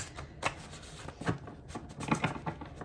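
A deck of homemade tarot message cards made from blank note cards being shuffled, giving a run of soft, papery riffling flutters close by, with no talking.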